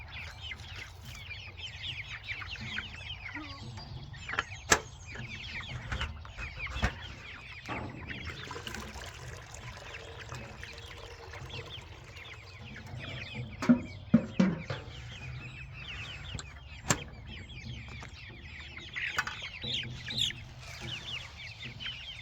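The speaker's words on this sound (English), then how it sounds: "Stay down there, rooster." Chickens cluck intermittently on a small homestead farm, with sporadic louder squawks and calls rising over a quiet background, a rooster among them.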